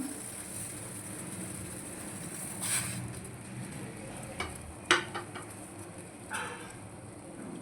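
Mutton pieces go into a pot of salted water with a pinch of turmeric at a rolling boil, giving a steady bubbling hiss broken by a few soft splashes and plunks.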